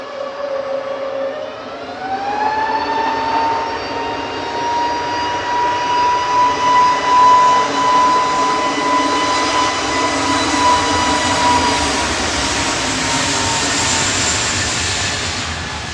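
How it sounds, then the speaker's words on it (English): An EasyJet jet airliner departing Manchester Airport for Munich, a loud rising whine that climbs in pitch over the first seconds, then a sustained roar that swells and slowly holds. "EasyJet departing next, heading off to Munich."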